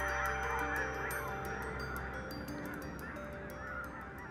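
A huge flock of red-breasted geese in the Danube Delta honking continuously, a dense, loud wall of overlapping calls filling the air with no pauses.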